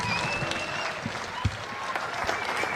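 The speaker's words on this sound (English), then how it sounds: "Let's give them a round of applause, everybody" Audience applause for the women's doubles pickleball champions at the PPA Vegas Championships, a moderate wash of clapping mixed with crowd murmur and some talk, with a few close thumps.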